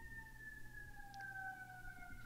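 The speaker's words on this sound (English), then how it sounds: "You hear the sirens in the back?" Emergency vehicle sirens wail faintly in the distance, a steady high tone slowly sliding downward behind quiet background noise.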